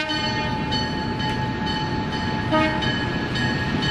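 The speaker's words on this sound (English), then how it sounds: "The train slows and allows passengers to get off in the park setting." A heritage museum train slows at a whistle stop beside a park, its steady low rumble of wheels and cars running throughout with a sustained horn tone held in the background.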